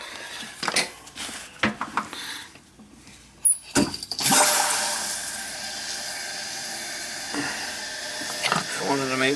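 After a repair, a few clanks of a toilet tank lid and parts come first, then a steady rushing hiss of water refilling the tank runs on unbroken and close.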